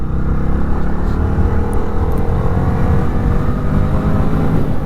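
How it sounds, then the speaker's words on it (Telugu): A Bajaj Freedom 125 motorcycle running on CNG, its engine holding a steady, smooth drone with continuous low rumble and road and wind noise throughout, recorded close while riding. "మీకు సిఎన్జిలో ఇంజిన్ అయితే చాలా స్మూత్గా ఉంది."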